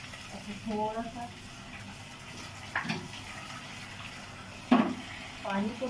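Water splashes into a pan of chicken frying in oil, a few short bursts of pouring and sizzling spread across the moment, fairly close, with someone talking over it.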